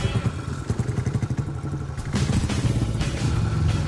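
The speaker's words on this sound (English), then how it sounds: "So first, you've got to bump start the bike into life." A speedway bike being bump started, its engine catching with a rapid clattering, thumping rhythm that grows louder and steadier partway through, close up with no talk.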